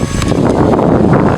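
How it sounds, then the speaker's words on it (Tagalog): Strong wind gusting across an open farm field, a dense rumbling buffet against the microphone lasting just over a second. "Kaso talagang lintik ang hangin"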